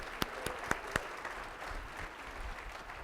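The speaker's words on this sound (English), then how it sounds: "Big round of applause for Brenda." A few sharp claps ring out at a workplace wellness summit, followed by a soft, quiet patter of audience applause that fades into room noise.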